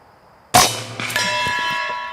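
A .25 caliber AirForce PCP air rifle fires once from a bottle-fed supply, a sharp loud crack followed by a ringing metallic clang that sustains and fades slowly.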